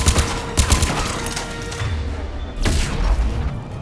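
Gunfire in the video game Mass Effect 3: bursts of loud, close shots and booming impacts in quick succession, with a heavy thud near the end.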